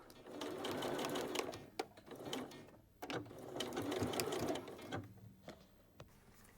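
A sewing machine stitches a hem on a small jacket pocket in two bursts of rapid, close mechanical whirring, separated by short pauses and a few sharp clicks.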